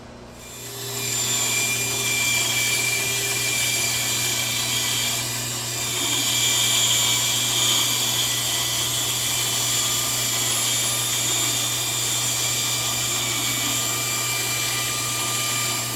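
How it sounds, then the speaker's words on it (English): A bandsaw cuts through wood in a workshop, giving a steady close whining hum with a sustained rasp of the blade biting into the timber, which starts after a short quiet moment and runs throughout with no talk. "I decided to bring it over here to the bandsaw and cut it off"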